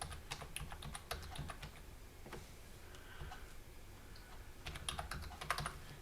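A library card number is keyed in on a computer keyboard, with quick irregular clusters of close key taps separated by short pauses, fairly quiet against soft room noise.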